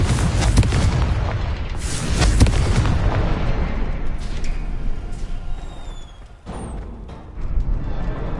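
Confringo spell explosions boom through Hogwarts Legacy, heavy blasts and rumbling debris rolling on continuously, dipping briefly before surging again, with no talking.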